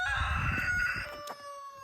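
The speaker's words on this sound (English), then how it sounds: "Right on cue, rooster" A rooster crows once on a farm, moderately distant but clear, with a drawn-out call that fades at the end and low rustling underneath.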